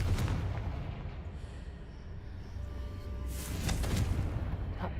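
The Confringo fire spell in Hogwarts Legacy goes off as a booming blast with a rumbling tail, followed by a second burst, loud and close under game ambience.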